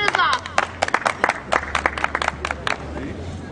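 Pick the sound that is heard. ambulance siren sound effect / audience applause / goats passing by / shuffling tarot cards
audience applause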